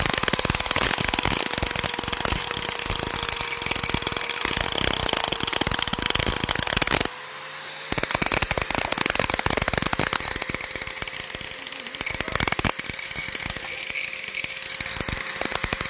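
A grinder runs loud and close with a harsh, rattling buzz, briefly stopping around the middle and then starting up again at full power.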